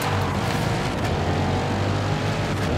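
Corvette E-Ray hybrid in Forza Horizon 5 pulling off the line, a loud, steady low engine drone with electric assist, continuous and up close with no talking.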